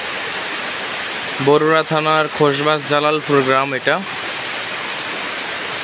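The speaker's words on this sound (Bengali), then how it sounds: "আজকে কুমিল্লা বরুড়া থানায় প্রচুর বৃষ্টি পড়তেছে।" Heavy rain falls steadily on Jalalpur village in Barura, Comilla, as a constant broad hiss that runs unbroken from start to finish, while someone speaks briefly near the middle.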